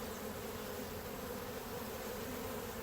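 A strong honey bee colony buzzing during a hive inspection, a dense, continuous hum that fills the whole stretch at an even, moderate level, with no talk.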